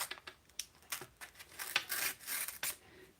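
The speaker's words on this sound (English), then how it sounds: "And then I think I'm just going to trim this right here," Paper trimming of cardstock at a card-making desk, a close run of short rasping, scraping cuts in irregular bursts, fairly clear with no talking.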